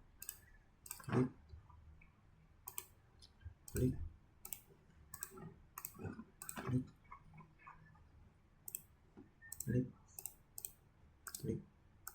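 Computer mouse clicks while formatting a Microsoft Word document, crisp single and paired clicks spaced irregularly over about twelve seconds, close and fairly quiet, with a voice speaking softly between them.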